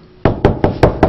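Five sharp knocks land on a door in a quick, evenly spaced series, close and loud, each one clear and distinct.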